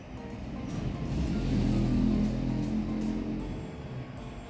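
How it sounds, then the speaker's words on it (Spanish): A car engine rumbling steadily for several seconds, a low continuous drone that swells slightly in the middle, moderately loud with faint music-like tones above and no speech. "Que creo que es un auto."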